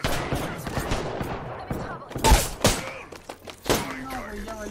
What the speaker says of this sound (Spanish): ¿Por qué madres hay cohetes en mi casa?